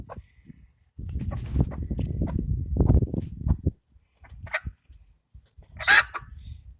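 A hen clucks and grumbles close by in a run of low, throaty burbling, followed after a pause by a few sharper, higher squawks.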